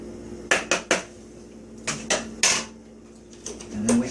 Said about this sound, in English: So we stir it up, make sure it's all good and homogeneous in here.